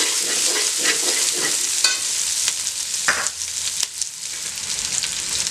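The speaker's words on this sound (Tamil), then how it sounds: "சின்ன வெங்காயத்தை போட்டுக்கலாம்." Small onions sizzle steadily in hot oil in a pan for chicken gravy, with a spoon stirring and scraping through them in several distinct strokes over the continuous frying hiss.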